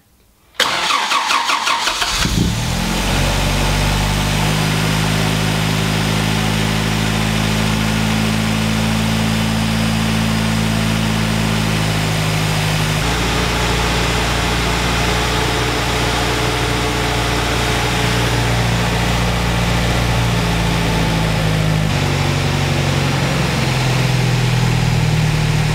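A car engine fitted with SU carburettors cranks briefly, then fires from stone cold and settles into a loud, steady idle with shifting low harmonics as the choke setting eases, running alone for over twenty seconds.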